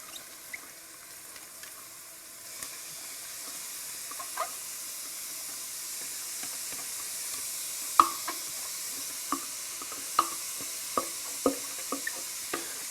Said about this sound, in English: Then I'm going to add my carrots and celery.